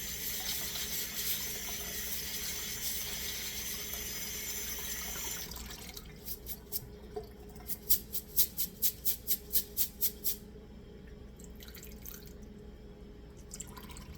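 Rice rinsed under a running tap, a steady rush of water that cuts off, then a run of rhythmic drips and trickles, with a brief splash near the end, alone and close.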